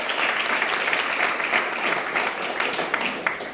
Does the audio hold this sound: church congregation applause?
yes